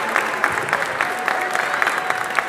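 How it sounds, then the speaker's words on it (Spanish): An audience at the Yukai Fest anniversary event in Argentina claps steadily, a dense, even patter of many hands with a few louder claps standing out, close and sustained. "Fuerte el aplauso, por favor, para Ana Kunoroma."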